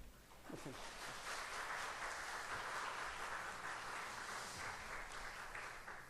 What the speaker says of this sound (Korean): 나오실 때 박수로 맞이해 주시기 바랍니다